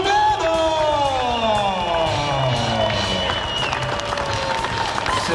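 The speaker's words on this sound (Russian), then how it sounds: "Дамы и господа, под ваши бурные аплодисменты, Beibut" A crowd at a boxing press conference in Astana for Shumenov vs Altunkaya claps and cheers throughout, loud and continuous, under a drawn-out, tonal, sung or shouted sound.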